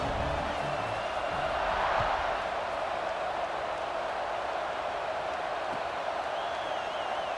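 In a football video game, a stadium crowd keeps up a faint, steady roar of cheering, a broad distant wash with a few whistles and whoops near the end and no clear talk.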